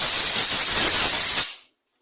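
Loud, steady hiss of compressed air blowing down a Honda lawn mower carburettor part for about a second and a half, then cutting off sharply to silence.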